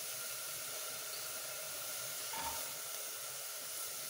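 Onions sizzle as they go into a hot pan while cooking githeri, a steady soft hiss with a brief brighter crackle partway through, quiet and with no talking.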